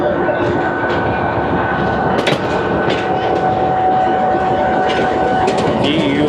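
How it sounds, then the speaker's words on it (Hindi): Locomotive 4552 rumbles away after uncoupling from the Awam Express rake at Lahore station, a loud, steady engine drone with metallic clanks and hisses over busy platform ambience. "फाइनली 4552 डिकपल होकर छोड़कर जा रहा है अवाम एक्सप्रेस के रेक को।"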